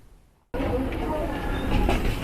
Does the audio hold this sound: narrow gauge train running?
yes